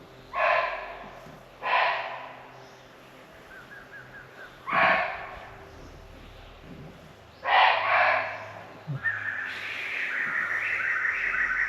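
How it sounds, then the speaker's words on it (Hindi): Wildlife alarm calls in a Jim Corbett tiger reserve forest at morning, several loud harsh barking calls spaced a few seconds apart over quiet background, followed by birds calling more steadily. "एकदम सन्नाटा और सिर्फ अलार्म कॉल।"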